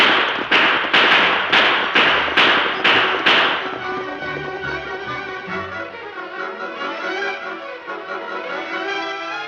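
Seven sharp gunshots crack in quick succession as bandits hold up a stagecoach in an old Western radio drama, loud and close, then fade into a lingering rumble and music.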